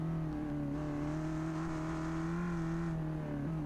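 A Baja car engine revs at part throttle in third gear from about 4,000 to 5,000 RPM, a steady, meaty, droning tone climbing gradually and sustained close and loud throughout.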